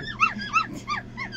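A puppy whimpering as it calls for its mother: about four thin, high, falling whines in a steady rhythm, close and fairly soft, with no talking.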